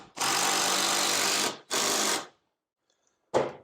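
A cordless power drill drives a screw into an acoustic panel in three whirring bursts: a long one of about a second and a half, a shorter one, then a brief final spurt after a pause. Loud, close and harsh, with no talk.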